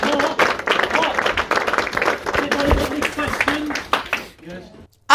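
Crowd applause at a gathering of conspiracy theorists, a dense stretch of clapping mixed with voices that fades out near the end.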